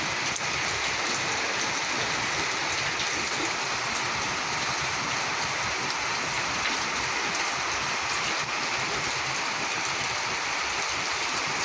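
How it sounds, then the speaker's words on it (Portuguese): Heavy rain pours steadily in Curitiba, a dense, unbroken hiss that stays loud and even from start to finish, with no voices over it. "Vai chover o dia inteiro, tá chovendo o dia inteiro já."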